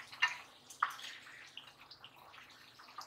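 Wet, sloppy clinks and scrapes of a spoon stirring a simmering Maharashtrian-style onion curry, with a few sharper taps against the pot and soft bubbling in between.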